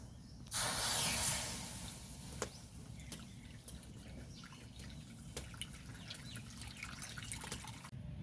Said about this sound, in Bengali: কড়াটা চাপিয়ে দেবো জি কড়াতে দিয়ে দেবো জল